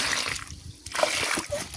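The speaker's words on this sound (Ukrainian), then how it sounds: "Тепер треба добренько залити водою, щоб ґрунт просяк." Water is poured onto compost-rich garden soil around newly planted peonies, splashing and sloshing loudly and close. The flow breaks off briefly, then resumes.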